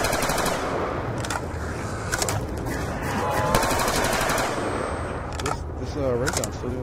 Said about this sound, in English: This ray gun's still doing some work.